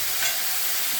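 Vegetables already fried in a pan sizzle steadily as water is poured in, a close, continuous hiss with no voices.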